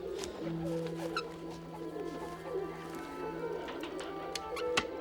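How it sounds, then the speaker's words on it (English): Caged pigeons coo in a low, steady hum through the whole stretch, with faint rustling and a few sharp knocks around them, no voices. "Grab a pigeon. Blue cage."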